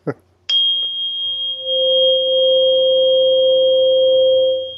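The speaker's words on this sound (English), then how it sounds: "I right here next to me, I've still got my tuning fork" A 528 Hz tuning fork is struck, then rings out alone as a steady, sustained pure tone for several seconds, close and fairly loud, with a faint higher overtone over it.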